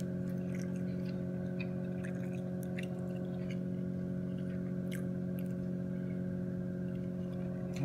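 Close, steady chewing of food flavored with onions, soft irregular clicks and squishes over a constant low hum, with no talking.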